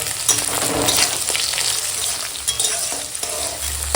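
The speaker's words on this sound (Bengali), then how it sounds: "দিয়ে দেব এখানে ফোড়ন তেজপাতা শুকনো লঙ্কা গোটা জিরে আর রাঁধুনি ফোড়ন দিলাম" Bay leaf, dried red chilli, whole cumin and radhuni spice sputter in hot oil as a tempering for a Bengali vegetable dish. The sizzle crackles steadily throughout, close up, with occasional stirring scrapes.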